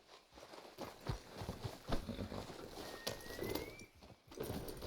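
Horse hooves clip-clop at a walking pace in Red Dead Redemption 2, steady close hoofbeats with faint bird calls and ambient outdoor sounds, and no talk over them.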